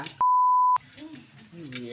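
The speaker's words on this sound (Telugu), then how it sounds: "ఆన్ చేస్తే బీప్ అయ్యింది" A single clear electronic beep, short and steady, sounds close by as a device is switched on, followed by quiet voices talking.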